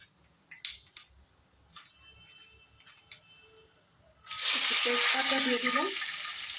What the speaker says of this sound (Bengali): একটু সাদা তেল দিয়েছি, একটু মেথি দিয়ে দিলাম।